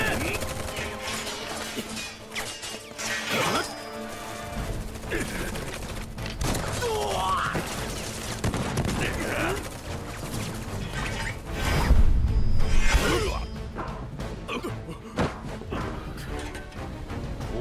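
Enemy soldiers open fire in the Final Fantasy VII Remake game, with sustained bursts of automatic gunfire, mechanical clanks and crashes over game music, plus brief shouted voices.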